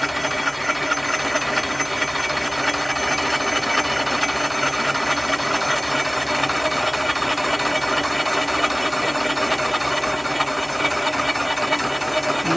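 A Comec ACF200 milling machine with a fixture for cylinder heads makes a light cut across a cylinder head, giving a steady, loud, unbroken mechanical whir with no pauses.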